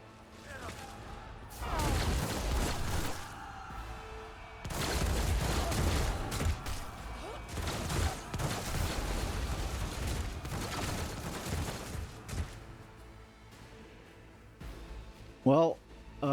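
Gunfire in Rogue Trader comes as bursts of loud, broadband shots and impacts in several clusters, mixed with game voices talking over parts of the combat.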